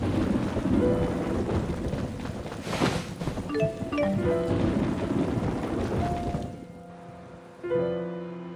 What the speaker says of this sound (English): I hope there won't be any more thunder.